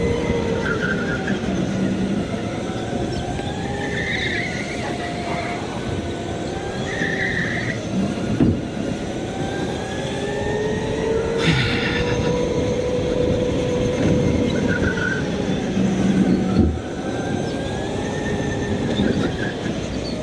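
A kart engine drones steadily while its tires squeal and slide without grip, wavering screeches rising and falling over continuous close mechanical noise for the whole stretch.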